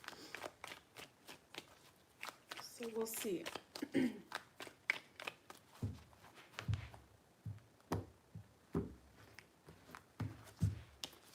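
Tarot cards are riffled and shuffled close by in a series of soft, papery bursts and taps, with a voice speaking briefly early on.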